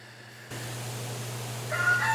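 A rooster crows among chickens, a short faint call rising over the steady hum of an attic fan.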